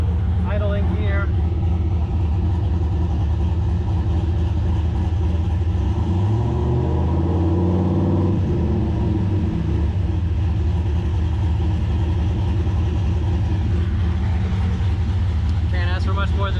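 A turbocharged LS-swapped Foxbody Mustang, fitted with an 80mm turbo and running on 93 octane, idles with a steady, loud low rumble for the whole stretch, with a brief swell in the middle and a voice talking over it.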